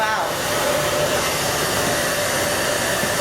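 A hair dryer blow-dries a woman's hair with a round brush after a Brazilian blowout salon treatment, giving a loud, steady roar that runs throughout.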